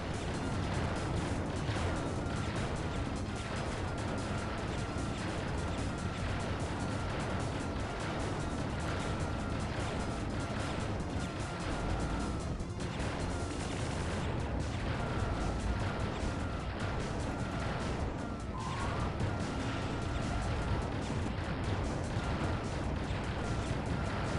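Homing missiles and explosions in the sci-fi shooter Mars Invader, heard as a dense, continuous wall of blasts, bursts and rumbling impacts that stays loud for the whole stretch, with no talking.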